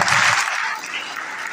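Audience applause fills a closing ceremony of the 46th CAMES consultative session in Gabon, a steady dense clapping that stays loud throughout and eases slightly toward the end.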